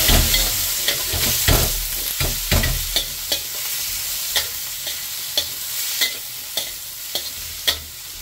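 Salted vegetables sizzle loudly in a pan as a spoon stirs them, with a regular series of sharp scraping knocks against the pan over a constant frying hiss.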